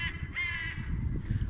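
Jackdaws, small corvids, give a few harsh repeated caws at close range outdoors, standing out against a rumbling low background noise.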